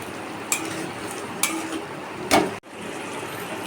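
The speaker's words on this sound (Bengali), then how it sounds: "এটা একটু কাশ্মীরি লঙ্কার গুঁড়োটা আমি একটু নেড়ে নেবো" Potatoes stirred with Kashmiri chilli powder in a pan over steady frying noise, with three spaced clinks and scrapes of the utensil nearby before a brief dropout.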